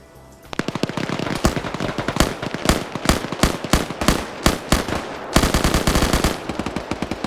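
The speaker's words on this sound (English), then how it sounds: "They're forced to take cover against grenades coming in." Rapid automatic gunfire and sharp bursts crack in a military video game match, loud and close, with dense rhythmic volleys running almost without pause.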